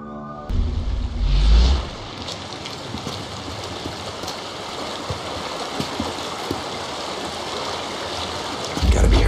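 Creek water runs steadily through a Days Gone game scene, a continuous broadband rush that stays even for most of the stretch, with a heavier low rumble at the start and end.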